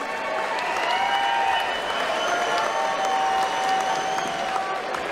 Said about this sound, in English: let's have a round of applause, please, for both these men inside the ring.